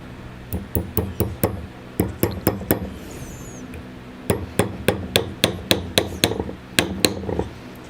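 Sharp metallic hammer strikes land in quick rhythmic bursts of five or six blows, with short pauses between groups, close and clear.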